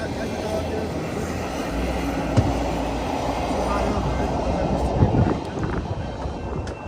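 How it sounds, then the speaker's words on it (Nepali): A train arrives in Portugal near a protective sea wall and a church, a low continuous rumble that swells slightly midway, with people talking over it. "ट्रेन आयो"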